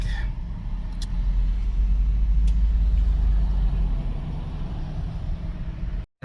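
Steady road traffic rumble from cars, a dense low drone that holds loud and constant with no distinct passes, then briefly cuts out near the end.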